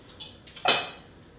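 A metal pan clanks once onto a stovetop, a brief bright clatter with a short ringing tail in a quiet room.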